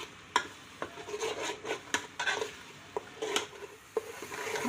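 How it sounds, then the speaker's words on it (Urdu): Tomato paste and spices frying in a pan, a soft continuous sizzle broken by sharp scraping strokes of a spoon stirring, close and alone. "اب اس کو بھی ہم بھون لیں گے۔"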